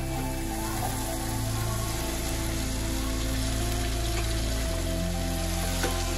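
Chickpeas going into a pan of well-fried masala with oil separated, giving a dense, continuous sizzle with a low steady hum underneath and a faint tap near the end.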